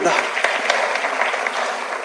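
An audience at a live talk breaks into sustained, dense clapping, a continuous wash of many hands that stays loud and fades only slightly.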